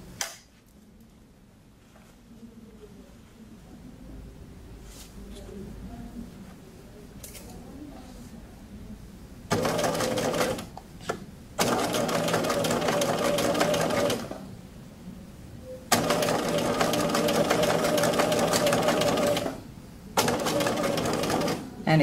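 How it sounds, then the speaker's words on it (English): A sewing machine stitches a sleeve placket right along the fold edge, running in two long steady bursts of rapid mechanical whirring with quiet pauses between; a person talks during the quieter stretches. "we're going to stitch this right at the edge of the fold"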